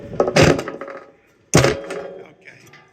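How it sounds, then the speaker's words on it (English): The metal fan blades of a United HVAC blower drop down onto the motor shaft, giving two separate close clattering knocks about a second apart, each with a short ringing tail that fades away. "That noise you heard was the blower blades going down."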